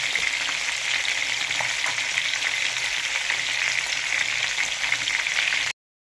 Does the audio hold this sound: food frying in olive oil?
yes